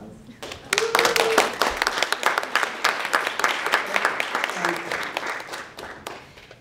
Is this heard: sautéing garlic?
no